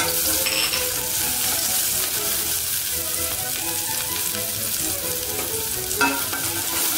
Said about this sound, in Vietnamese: Em cho hành phi và chúng ta phi cho nó thơm.